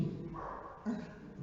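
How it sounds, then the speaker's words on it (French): A dog barks and yips a few times during a church service, short bursts that sit amid faint room murmur and voice-like tones at a moderate distance. "Ah, je croyais que c'était notre chien."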